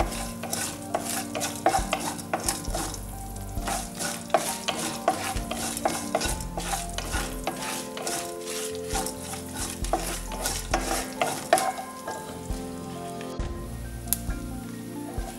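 Urad dal frying in oil over a low flame, a busy crackling sizzle with repeated spoon scrapes and taps against the pan in an uneven rhythm, close and fairly loud, without voices.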